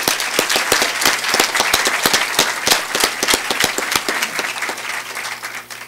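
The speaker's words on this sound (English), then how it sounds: "Let's give them a big round of applause." An audience at the Fairport Wall of Distinction ceremony honoring six community members applauds, with crisp individual hand claps standing out from a sustained round of clapping that gradually tapers off near the end.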